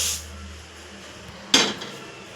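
Roasted urad dal is poured from a pan into another metal vessel in a home kitchen, a single brief metallic clatter and rattle after a quiet lead-in.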